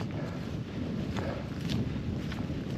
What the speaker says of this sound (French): Le vent commence à se lever là.